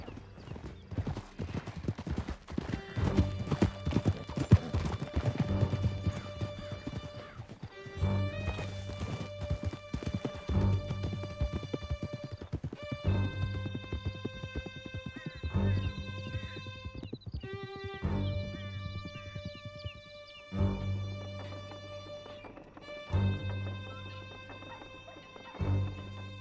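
Horses gallop in the video game Red Dead Redemption 2, with rapid hoofbeats running throughout along with occasional whinnies, over an orchestral game score.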